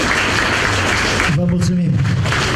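Audience applause fills a theatre hall at a first-edition theatre festival, a dense, loud burst of clapping for about a second before it gives way to other sound.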